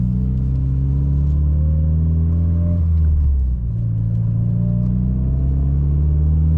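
A freshly tuned Mitsubishi Evo engine drones loudly and close, its revs climbing steadily, dropping briefly midway, then rising again in a sustained, throaty rumble.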